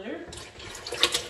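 Water from a faucet runs into a mug while a drink of Keto Chow is being mixed, a short steady splashing pour that swells near the end, close by and alone.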